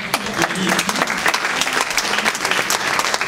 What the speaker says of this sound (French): vous pouvez applaudir Marie, c'est Denis.